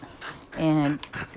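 A dog gives a short, close, high-pitched whimper in a brief rising and falling whine, with a little faint background noise around it.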